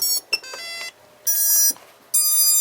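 Quadcopter flight controller playing its startup tune: a short series of bright electronic beeps and sustained tones, loud and alone, with brief pauses between phrases.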